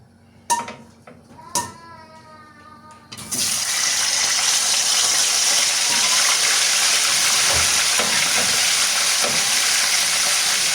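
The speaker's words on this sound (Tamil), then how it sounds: "சிக்கனை நாங்கள் பொரிச்சு எடுத்துக்கொள்வோம்." Chicken dropped into hot oil in a home kitchen: a couple of sharp clinks of utensils, then a loud, dense, continuous sizzle of frying that swells suddenly and holds steady, with faint crackles underneath.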